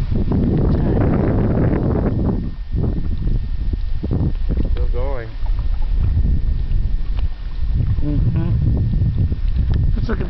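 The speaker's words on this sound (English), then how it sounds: "here comes the wind again." Steady wind roars across an open microphone on a boat on the water, constant and loud, with faint voices and some knocking now and then.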